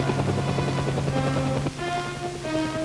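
Navy, Marine and Air Force military helicopters flying on rescue and supply missions near Nagoya, a steady loud rotor drone with a shifting engine whine that continues without pause and without any voices.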